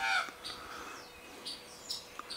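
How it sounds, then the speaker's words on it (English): Magpie calling outdoors at Loch Sport among other birds being fed, a few short harsh calls at moderate distance over faint background chirps. "Yeah, magpie."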